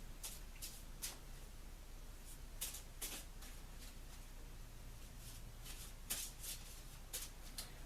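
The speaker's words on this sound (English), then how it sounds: "So I'm shuffling overhand this week because there's only 22 cards." A 22-card tarot deck shuffled overhand, producing faint, close, irregular papery slaps and riffling ticks at uneven intervals over a quiet background, with no speech.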